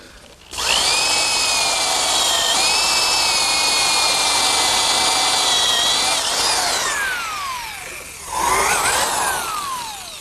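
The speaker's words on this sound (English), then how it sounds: "Now a counterbore is best made with a Forstner bit." A power drill fitted with a Forstner bit bores a flat-bottomed counterbore into wood, whining steadily for several seconds with a few dips in pitch, then spinning down, followed by a brief second burst that winds down.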